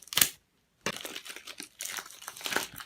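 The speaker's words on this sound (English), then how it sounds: "Let me just cut it open neatly with a scissor" Scissors cut open the cardboard box of an Oukitel Mix 2 smartphone, with crisp crinkling and crunching bursts: one sharp snip, a short pause, then a run of close, uneven cutting and rustling.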